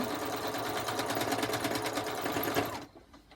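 Sewing machine running fast while stitching a quilt block, a rapid even needle clatter heard close up for about three seconds before it stops abruptly.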